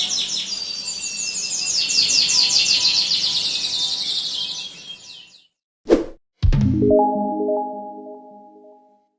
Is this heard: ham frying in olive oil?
no